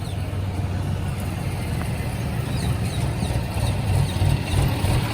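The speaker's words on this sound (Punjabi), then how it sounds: "ਦੇਖੀ ਬਾਈ ਮਗਰ ਟਰੈਕਟਰ" A tractor engine idles steadily nearby, a continuous low chugging rumble with slight irregular pulses, no voices.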